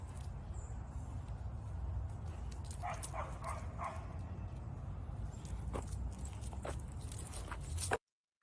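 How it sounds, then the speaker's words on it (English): Week-old puppies whimper softly, with faint, thin yips and whines rising now and then over a steady low background hiss. "Our puppies are a week old."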